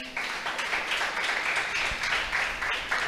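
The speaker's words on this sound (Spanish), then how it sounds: "le damos un aplauso al Señor" A church congregation applauds continuously, a dense wash of clapping hands that holds steady for several seconds.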